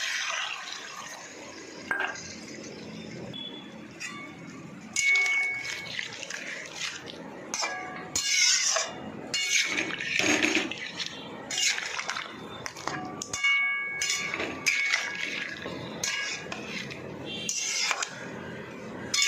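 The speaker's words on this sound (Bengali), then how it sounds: "আমি জলটা ঢেলে দেবো।" Water poured into a pan of fish cooking in a mustard sauce, with steady hissing and clattering close by, loud and continuous throughout.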